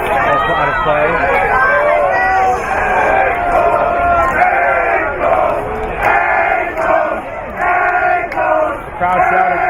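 Loud soccer crowd at a women's college championship match between Clark and Emerson erupts in sustained shouting and cheering after a skillful dribble beats a defender, a dense wall of voices rising and falling throughout.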